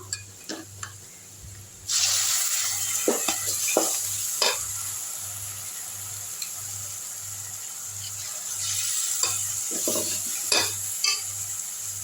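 Ground tomato-onion paste sautéing in hot oil for a quick vada kara kuzhambu, a loud steady sizzle starting after a quiet opening, with scattered spoon scrapes and stirring clicks near the pan and a low rhythmic hum underneath.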